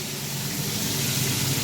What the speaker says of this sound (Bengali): এখন পটল ভাজা করছে